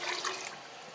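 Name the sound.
pouring second litre of water into pressure cooker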